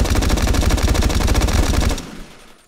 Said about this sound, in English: I do like the way that a lot of these guns sound.